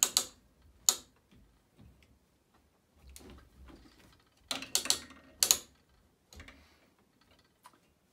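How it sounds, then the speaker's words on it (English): A ratchet on a long arm quilting frame being turned, giving a few sharp, close mechanical clicks in irregular bursts with quieter rattling between them. "I'm gonna ratchet this one back in the opposite direction."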